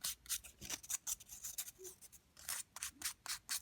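Sandpaper passed lightly over the edges of creature-effect nails gives soft, short scratchy rubs in quick irregular strokes, very faint and close, with no voices.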